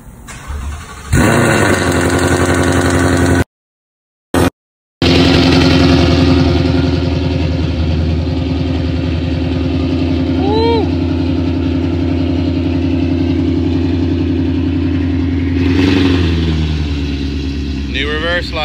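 A 2018 Mustang GT V8 starts up and settles into a loud, close, rumbling idle with a steady low burble and small shifts in pitch, with brief talk in the background.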